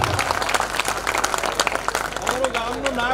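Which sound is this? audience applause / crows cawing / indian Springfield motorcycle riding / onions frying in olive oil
audience applause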